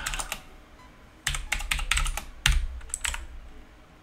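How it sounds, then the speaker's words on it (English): Typing on a computer keyboard at a desk: bursts of rapid, close key clicks separated by short pauses, with a few heavier thumps like the space bar or enter key, and no talking. "Oh, John, get a grip of the keyboard."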